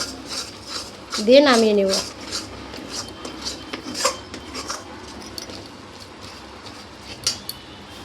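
Yogurt chutney being stirred in a pan with a metal spoon, giving a few light scrapes and clinks against the pan and one brief squeaky scrape near the start, under soft speech.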